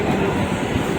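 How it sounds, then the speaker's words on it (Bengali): A train at a station rumbles steadily with a broad low roar of rolling stock, close and continuous throughout. "ওই ট্রেন ছেড়ে দিয়েছে।"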